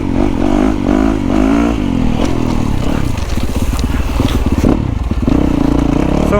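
A motorcycle engine revs hard and loud throughout, with rising and falling pitch and some clattering mechanical noise, close up and alone without talk.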